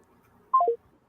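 Three quick descending electronic telephone tones, brief and clear against near silence, like a short dialing or call-connect beep sequence.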